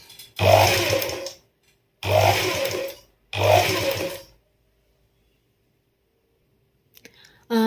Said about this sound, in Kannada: ಈಗ ಅದರ ಮೇಲೆ ಸ್ಟಿಚಿಂಗನ್ನು ಮೆಲ್ಲ ಸ್ಟಿಚಿಂಗನ್ನು ಮಾಡಿದರೆ ಆಯಿತು